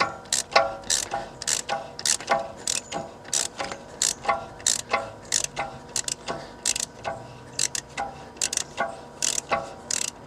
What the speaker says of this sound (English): so I'm just going to use a ratchet, just go at it gently